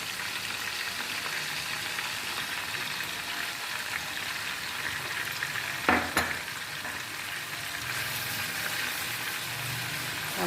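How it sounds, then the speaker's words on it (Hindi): Masala spices with yogurt roast in a pan with a constant, dense sizzle, broken near the middle by a brief clatter as the mixture is stirred. "हम मसाला भूनते हुए फिर आपको कुछ स्लो धीमी आंच पे हम अच्छे से भूनेंगे।"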